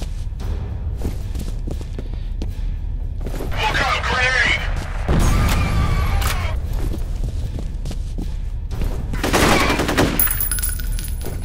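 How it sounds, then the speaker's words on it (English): Gunfire rattles through a firefight in the first-person shooter F.E.A.R., with loud bursts of automatic fire and booming impacts layered over a dense, continuous game soundscape. "Stop shooting at me!"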